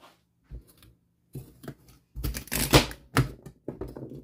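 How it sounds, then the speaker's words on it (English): A knife chops the ends off carrots and celery on a cutting board, giving a few scattered crisp cuts and taps that are quiet and close, with no voices. "For the carrots and celery, this is really easy. Cut off the ends."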